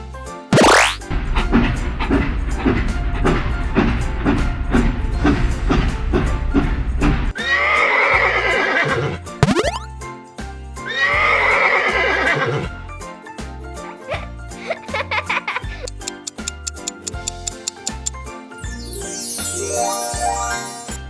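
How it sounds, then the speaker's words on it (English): A horse neighs in a loud, shaky whinny repeated several times, set against bouncy children's farm-song music with clip-clop, jingle and boing effects. "Horse."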